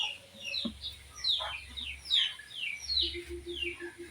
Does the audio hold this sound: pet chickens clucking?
yes